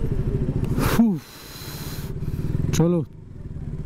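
A KTM Duke 200 motorcycle on a Sunday group ride, with a steady engine drone throughout and two bursts of louder revving as the rider shifts, while someone speaks briefly over it.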